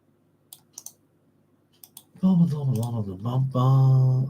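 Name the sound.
computer keyboard typing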